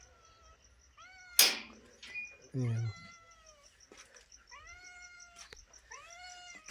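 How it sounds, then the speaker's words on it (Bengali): A pet cat, kept since it was a kitten, waits indoors for its owner and meows several times, with a few short harmonic cries close by. One brief spoken phrase comes in between the meows. "আমার এই বিড়ালটা হচ্ছে ছোটোবেলাতে আমার কাছে আছে"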